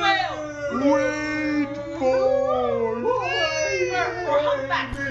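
A person voices drawn-out, wavering whale-like calls while playing Poppy Playtime Chapter 3, imitating the sound with rising and falling howling tones that run continuously for about five seconds, close and fairly loud.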